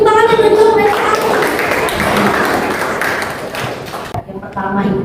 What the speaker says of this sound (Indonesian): beri tepuk tangan yang menjawab yang pertama